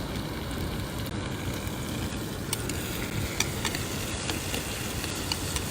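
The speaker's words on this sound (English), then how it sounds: "I'm taking a little bit of time here to saute up these vegetables" Vegetables sauteing in a pan for a jerky chili and black bean soup: a continuous soft, even sizzle with faint crackles, steady and fairly quiet, no talking.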